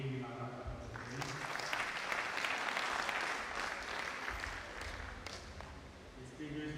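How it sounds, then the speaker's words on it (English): Applause from an audience after a ninth inaugural lecture at a university ceremony; a modest, steady round of clapping in a large hall, fairly quiet and distant, tapering off near the end as a voice returns. "we give him a round of applause"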